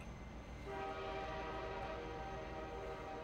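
A video game train rumbles along steadily, with a sustained horn-like tone sounding over the continuous rolling noise, near and fairly loud.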